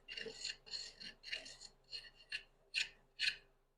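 A sharpened hand plane set for a fine cut chamfers the back corner of a wooden board, working across the grain: about seven short, close rasping strokes in a steady rhythm, each a crisp swish with brief pauses between.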